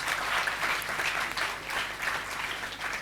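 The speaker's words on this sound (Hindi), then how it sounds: "जोरदार तालियां होनी चाहिए।" Conference audience applause, dense and sustained clapping from a large crowd at steady loudness throughout.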